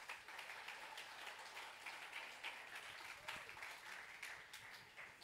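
Church congregation applauding loudly during a sermon, a dense, steady wash of clapping with voices faintly mixed in.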